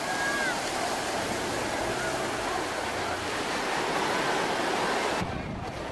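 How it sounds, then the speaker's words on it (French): Waves wash continuously onto a crowded fine-sand beach in Montenegro, a steady hiss of surf with wind across the microphone and faint crowd murmur beneath. "Beaucoup de monde sur la plage ici aussi, mais ici cela s'explique, c'est une plage de sable fin."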